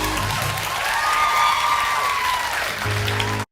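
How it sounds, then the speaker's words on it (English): A steady wash of audience applause fills the room at moderate loudness without a break, with a faint sustained tone running through it, and stops abruptly at the end. "I wanted to get the audience applause there"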